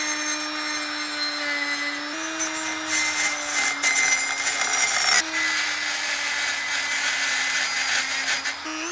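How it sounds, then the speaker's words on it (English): A Dremel rotary tool carves metal from a part on an Echo RB60 spreader in a garage, a steady high-pitched whine with gritty grinding that stays loud and continuous, shifting pitch slightly as the load changes. "take my Dremel and carve some metal out"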